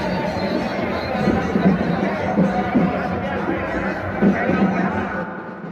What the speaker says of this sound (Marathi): या स्टॉलकडे महिलांनी तुफान गर्दी केल्याचे दिसून येत आहे।